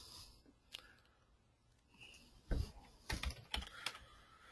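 Soft keystrokes tap on a computer keyboard as a search term is entered, a few scattered clicks followed by a quicker burst of typing, faint and close with light breathing noise.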